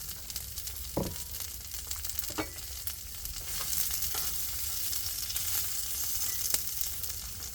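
Celery and mushrooms fry in a pan with a steady crackling sizzle, broken by a few sharp clicks and scrapes of stirring, fairly close and without talk.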